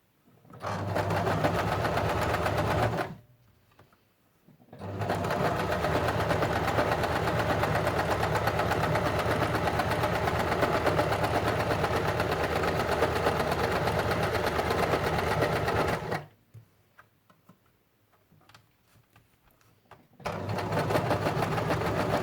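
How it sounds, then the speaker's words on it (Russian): A sewing machine stitches along the seam of a plush blanket with a steady close mechanical whir, running in long continuous bursts separated by two short pauses, with no talk. "Прострачиваем по вот этой вот линии шва."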